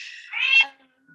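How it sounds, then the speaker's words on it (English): A domestic cat gives a single short meow close to the microphone, rising and then fading, followed by a faint trailing murmur in an otherwise quiet room. "Sorry about my cat."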